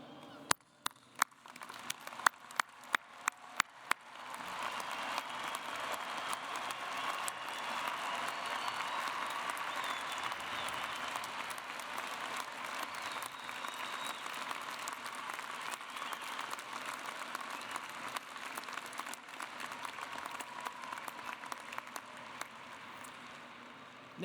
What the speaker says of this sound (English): give the first of what I'm sure will be many congratulatory claps for our graduating class of